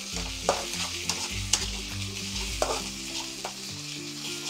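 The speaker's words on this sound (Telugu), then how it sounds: "యాడ్ చేసేసుకొని ఫస్ట్ మంచిగా కలిపేసుకోవాలి." Ginger garlic paste stirred into onions frying in a pan for dhaba-style paneer masala, a steady sizzle broken by several sharp spoon scrapes and clicks against the metal, close and fairly loud, no talking.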